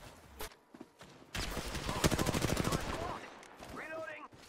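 Rapid bursts of video game gunfire in a first-person shooter, a dense loud volley of shots in the middle with scattered single shots around it and a player's voice talking over parts.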